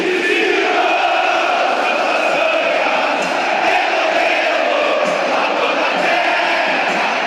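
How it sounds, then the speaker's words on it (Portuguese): A dense stadium crowd of Grêmio football supporters sings the gaúcho anthem together, a loud, sustained wall of massed voices with a steady rhythm and no break throughout. "a geral do Grêmio, a melhor torcida do mundo, cante o hino gaúcho em cima do hino brasileiro"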